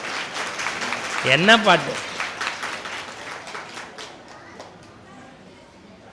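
Audience applause at a temple gathering during a humorous spiritual talk, a dense clapping swell that peaks early and gradually fades, with a voice briefly calling out over it.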